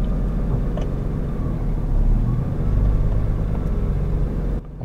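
Nissan GT-R transmission with the clutch engaging and grabbing gear, a steady low drivetrain rumble and idle hum with a slight swell in the middle, close and fairly loud, cutting off at the end.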